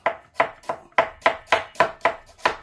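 A knife slices an onion very thin on a cutting board for tacos, giving nine steady, evenly spaced crisp chops close up.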